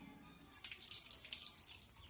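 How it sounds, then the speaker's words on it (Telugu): Water runs steadily from a tap while feet are being washed, a continuous splashing flow that grows louder partway through, with no talking. "అబ్బా మంచిగా కడుగు, కాళ్ళు మంచిగా కడుగు."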